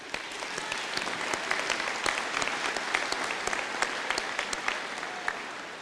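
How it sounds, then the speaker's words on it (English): A graduation ceremony audience applauding steadily, with dense, continuous clapping from a large crowd that holds an even level throughout and has no talk over it. "Please give Joyce a round of applause."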